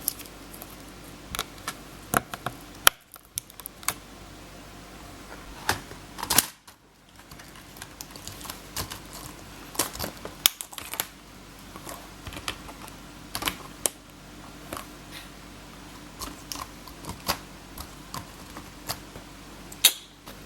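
Old laptop keyboard being unplugged and a replacement keyboard connected during a repair, giving faint scattered clicks and small plastic taps over a low steady background hum, with no talking.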